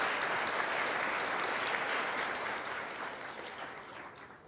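A congregation at a church seminar gives a round of applause, steady rapid clapping from many hands that stays fairly even and then gradually thins and fades over a few seconds.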